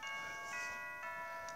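A Pokémon game plays a short chime jingle as a move is learned: a few clear, bright electronic tones sounding in sequence, faint and alone.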